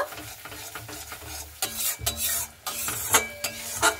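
A spatula stirs and scrapes yogurt masala in a sizzling frying pan for a Bengali pointed gourd and prawn dish, making close, uneven strokes over a soft frying hiss.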